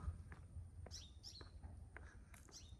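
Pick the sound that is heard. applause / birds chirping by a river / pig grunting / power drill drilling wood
birds chirping by a river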